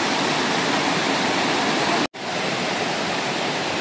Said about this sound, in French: mais là, ça fait vraiment une cascade.